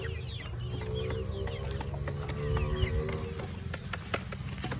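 Several chickens cluck and chatter continuously nearby, with occasional sharper calls over a steady barnyard murmur.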